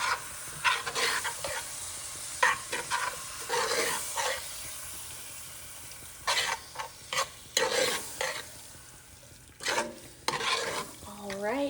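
Enchilada filling of beef, cilantro and feta cheese is stirred in a pan with intermittent scraping and soft sizzling strokes, close and fairly quiet, no talking.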